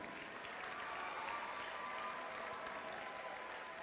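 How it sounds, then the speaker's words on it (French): Steady applause from an audience at an FTC regional competition in Neuville-sur-Saône fills the whole stretch, a dense even clatter of many hands heard from a distance. "On a nos 6 alliances, vous pouvez les applaudir très fort."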